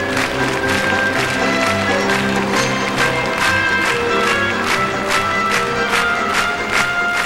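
Arena crowd at a 1996 pairs figure skating long program clapping in a steady beat, sharp regular claps repeating over music filling the rink.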